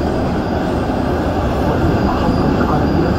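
Dubai Metro Green Line train running between stations: a steady, loud rolling rumble of wheels on rail with a continuous broadband roar, no breaks.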